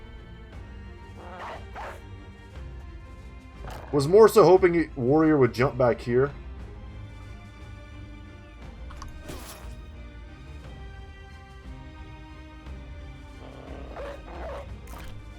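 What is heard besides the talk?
dog barking in the video game Battle Brothers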